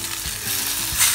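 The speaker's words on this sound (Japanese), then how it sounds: "この切ってある断面のとこ、ここもね焼き色つけてあげましょう" Roast beef searing in a hot pan, a brief close sizzle with light scraping and a short louder burst near the end.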